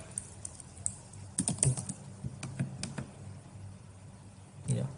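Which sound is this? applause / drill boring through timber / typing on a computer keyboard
typing on a computer keyboard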